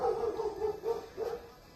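A puppy barks three times in quick succession, short yappy bursts spaced evenly, fairly close with no talking.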